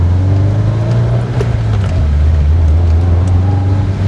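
A Subaru WRX STI race car pulls away under acceleration, its engine note rising and holding a loud steady drone up close, with a brief shift partway through and no talk.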